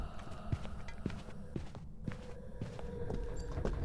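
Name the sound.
ghost footsteps in Phasmophobia video game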